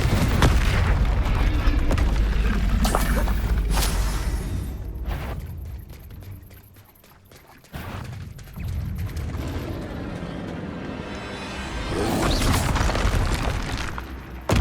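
Confringo explosion spell in the video game Hogwarts Legacy, a dense booming blast with fiery crackle, falling to near quiet midway before another heavy burst and a rumbling swell.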